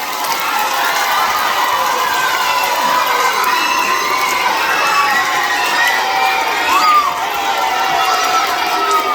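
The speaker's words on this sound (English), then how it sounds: "Could you all please give the P&C a big round of applause?" A crowd of schoolchildren cheers, shouts and claps at a Christmas raffle for a school P&C, a loud, dense and sustained din with no clear pauses.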